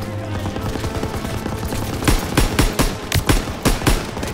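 Machine gun fire in Call of Duty: WWII on the Hill 493 battle, with sharp bursts and single loud shots cracking over a dense battlefield din. It grows heavier and closer in the second half.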